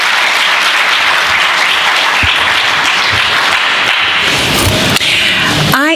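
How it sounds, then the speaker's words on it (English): An audience at an African business roundtable applauding, a dense, loud, sustained wash of many hands clapping together that holds steady throughout before a voice briefly starts at the end. "Let's please give him a big round of applause."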